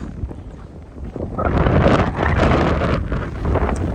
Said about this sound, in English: Oh man, it's so windy now.